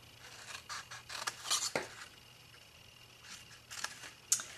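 Scissors snip through paper, cutting rectangles to form the bottom flap of an envelope: a handful of short, crisp cuts in two clusters, close and fairly quiet, with no talking.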